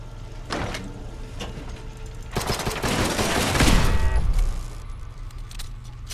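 Rapid gunfire from a weapon emptied at a creature in the game Fallout: London, a dense burst of shots swelling loud midway through and fading, with no talk over it.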